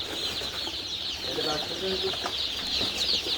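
Poultry-farm chickens fill a shed with a steady, shrill chorus of peeping and clucking, with a few faint voices and scattered rustles mixed in.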